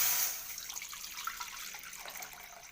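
Water pours into a cooking pan in a rural home kitchen, a steady splashing, gurgling stream close by that starts louder and settles into an even flow.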